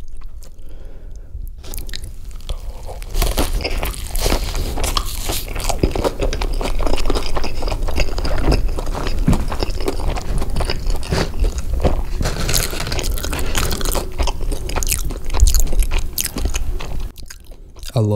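Close, loud crunching bites and chewing of Chipotle burritos and tortilla chips, with dense crackling crunches and wet chewing sounds continuing steadily throughout and no talk.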